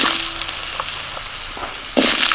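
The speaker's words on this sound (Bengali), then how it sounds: "ফোড়নটা ভাজা হলে দিচ্ছি আলু" Potatoes drop into hot mustard oil tempered with bay leaf, dried red chilli and five-spice, giving a steady close sizzle that swells louder near the end as they hit the oil; no one speaks.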